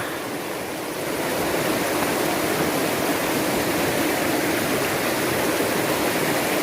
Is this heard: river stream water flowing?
yes